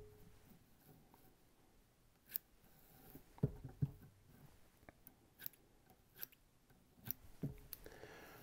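Scissors snip fly-tying material at the head of an 8-inch flashtail pike and musky fly, a handful of faint, close, crisp cuts scattered irregularly through a quiet room.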